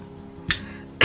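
Two short coughs, close by, roughly half a second apart, the second louder than the first.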